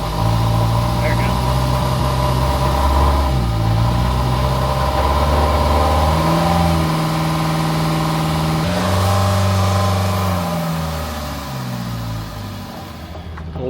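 A sailboat's engine runs with a steady tonal hum, shifting pitch as it revs up and settles back down, loud and close, fading slightly toward the end.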